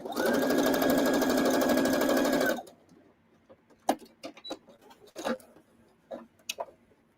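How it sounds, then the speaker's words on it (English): A sewing machine stitches quilt pieces in a loud, fast, steady whir for about two and a half seconds, then stops, leaving a quiet room with a few scattered light clicks and knocks. "We're going to keep on sewing and putting this sewing machine on fire."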